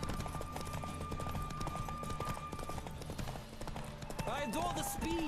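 Roach's hooves pounding at a gallop during a horse race in The Witcher 3, a continuous clip-clop rhythm mixed with game music and effects throughout.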